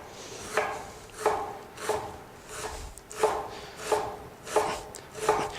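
A knife chops an onion on a cutting board with about nine evenly spaced strokes, each a crisp thunk. A faint scraping follows each one, close and clear with no talk.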